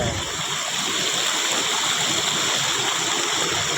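Floodwater rushes across farm fields after heavy rain, a steady, loud roar of flowing water like a stream or spillway, continuous and close with no talking.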